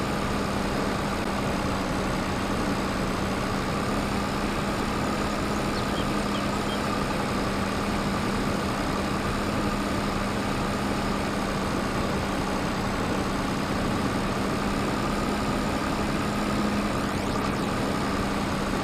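A cabless tractor engine in a farming simulator game drones at a steady, constant low idle, even and unbroken throughout, with no talking.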